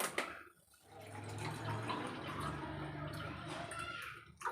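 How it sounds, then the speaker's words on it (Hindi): Water splashes and gurgles steadily into a glass at home, close up and fairly quiet, while making lemon sharbat. "पानी डालूंगी"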